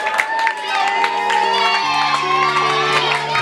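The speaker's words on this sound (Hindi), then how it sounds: "आप लोगों की बहुत सारी तालियां Haseeb के लिए" A crowd claps, cheers and whoops for Haseeb after he wins a match at a wrestling-style show, loud continuous noise with overlapping voices and music-like tones throughout.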